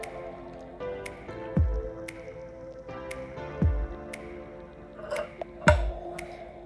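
Fresh celery juice poured into small cups, with a few soft liquid glugs and splashes, light clinks of glass, and scattered taps and knocks against a quiet background.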